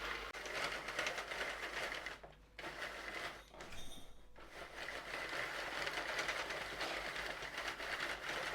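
Sentro 48-needle hand-cranked knitting machine turning steadily, a close continuous mechanical whir with ratcheting clicks and two brief pauses as the crank is turned.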